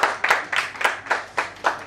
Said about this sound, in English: Somebody's already clapping.